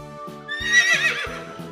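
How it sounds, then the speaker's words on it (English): A horse gives one short, shrill whinny with a wavering, shaky pitch, set against soft, rhythmic background music. No one speaks. "Horse."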